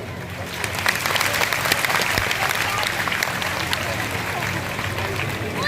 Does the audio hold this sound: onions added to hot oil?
no